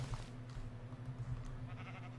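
A Minecraft sheep bleats faintly in the background, a few soft wavering calls over a low steady hum, quiet and somewhat distant.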